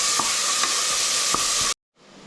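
Salted onions sauté in a pan for potato rice made with ration rice, a dense close sizzle with a few light utensil taps, cutting off abruptly before fainter frying resumes.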